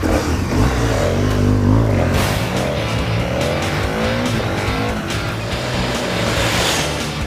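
A liquid-cooled BMW GSA and a KTM 1290 Super Adventure race side by side, their engines revving hard and close with rising and falling pitch, then settling into a steady, slightly quieter drone.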